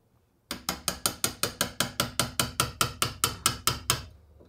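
Rapid, evenly spaced sharp metallic strikes, about fifteen close hammer blows on a chisel, knocking out the rear brake pad tension plate on a Peugeot 205 GTI, then stopping.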